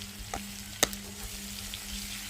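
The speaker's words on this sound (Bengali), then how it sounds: "ওই তেলে আমি শুকনো লঙ্কা আর রসুন দেবো এবার। তো রসুন দিয়ে দিয়েছি। তো রসুনটাকে লাল লাল করে ভেজে নিয়ে" Garlic cloves and dried red chillies fry in hot oil left over from frying fish, giving a steady soft sizzle with a few sharp crackles and a brief stir near the start, no voices.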